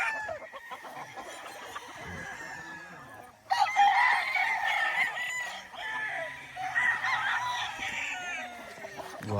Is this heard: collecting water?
no